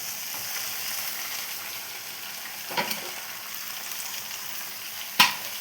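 Chopped gongura (sorrel) leaves go into a red-hot frying tempering, giving a continuous sizzle with a couple of sharp stirring clatters and scrapes, and one louder knock near the end.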